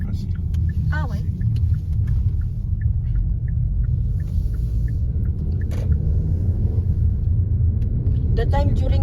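Cars rumble steadily past on a road through the Normandy countryside, a continuous low engine and tyre noise that is fairly close, with a few voices heard faintly over it.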